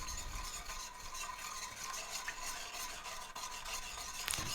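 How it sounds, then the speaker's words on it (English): A whisk stirs a sugar mixture in a bowl, a quiet, continuous scraping and swishing with soft rhythmic strokes, close and faint, no talk heard. "Alright, we're going to whisk all that together."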